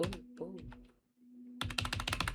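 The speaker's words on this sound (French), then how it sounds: "mon clavier marche plus" Computer keyboard keys clatter in a rapid burst of close clicks, preceded by someone speaking French and a faint steady hum.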